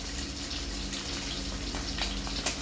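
Water from a freshly opened young coconut pours out in a steady, close trickling gush, a continuous splashing flow with small bright spatters, heard alone without talk.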